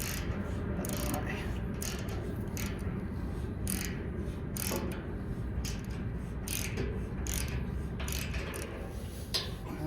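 Ratchet wrench with a 3/8 socket tightening trailer axle bolts, a steady run of quick metallic clicks repeating through the whole stretch, close and fairly loud.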